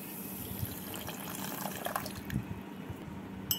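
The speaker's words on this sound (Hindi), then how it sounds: "एक कप चीनीर मध्ये एक कप आमी जल दिए दिच्छि।" Water poured from a cup onto a cup of sugar in a pan to start caramel for a biscuit pudding, a soft, close trickling splash lasting a few seconds with faint clinks near the end.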